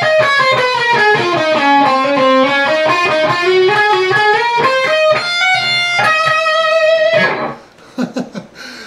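Distorted electric guitar plays a fast solo passage from a song, a loud flurry of sustained single notes with descending and rising runs, played alone and close, ending with a few quieter muted picks.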